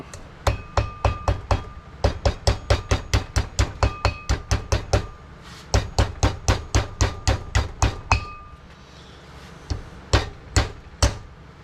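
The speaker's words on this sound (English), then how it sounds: "you can use a hammer" Rapid, regular hammer blows on a piece of wood held against a failed car wheel bearing, loud and close, in bursts of steady strikes with brief pauses between them.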